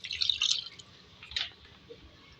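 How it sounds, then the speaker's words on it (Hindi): Water being added to a pan of potatoes during cooking for tandoori aloo, heard as a few brief splashing and dripping bursts close up, loudest near the start with a smaller splash midway, no talking. "उसमें पानी ऐड करेंगे।"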